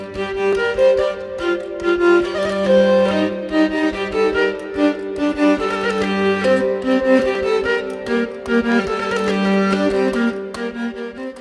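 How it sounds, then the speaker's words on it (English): A medieval hurdy-gurdy, a violin-like string instrument bowed by a crank-driven mechanical wheel, plays a dense, buzzing, sustained melody over a steady low drone. It is loud and continuous for about eleven seconds, with no talk. "A hurdy-gurdy is a pretty far-out sounding medieval instrument where a mechanical bow plays a violin"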